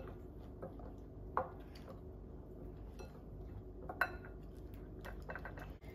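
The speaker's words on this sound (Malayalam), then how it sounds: "ഇനി നമുക്ക് ഈ മിക്സിലേക്ക് ഈ ഗോതമ്പ് പൊടി എടുത്തിട്ട് കുറേശ്ശെ ഇട്ട് മിക്സ് ചെയ്തെടുക്കാം." Wheat flour is stirred into vegetable cake batter in a bowl, with faint scraping and a few sharp clinks of a utensil against the dish.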